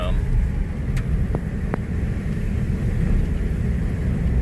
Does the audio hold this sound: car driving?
yes